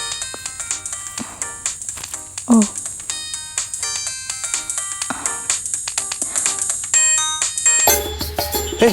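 A mobile phone ringtone plays after a number is dialled, a steady repeating electronic melody over a low hum that keeps on throughout, with a louder burst of sound near the end.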